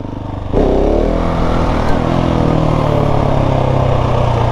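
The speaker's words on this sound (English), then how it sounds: "that's just first gear, just twisting that throttle just a little bit" A motorcycle engine in first gear, throttle twisted just slightly, jumps up in revs after a brief idle and then holds a steady, close, loud drone.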